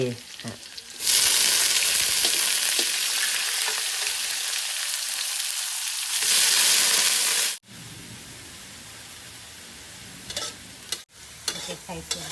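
Pounded dried chili and garlic hitting hot oil, a loud broad sizzle that roars steadily and then drops to a quieter, continuing fry with brief breaks and a few utensil knocks.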